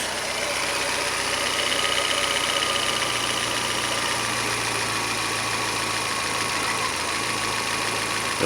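A Fiat Palio 1.4 engine idles steadily during idle speed adjustment, a close, continuous mid-pitched hum with faint whine, its note shifting slightly partway through, no voices.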